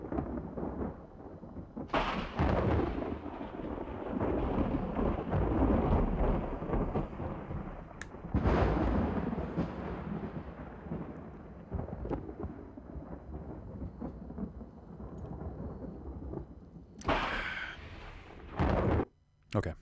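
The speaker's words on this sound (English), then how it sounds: "do I just have to sit out the storm too?" Thunderstorm in a golf video game, with loud rolling thunder crashes and rumbles over a steady rain-like wash, one big clap early, another mid-way and a sharp burst near the end.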